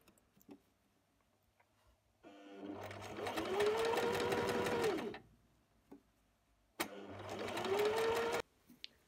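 A sewing machine stitches a Lombarde blouse sleeve in two steady bursts, each a fast even whir lasting a few seconds, separated by a quiet pause with faint handling clicks.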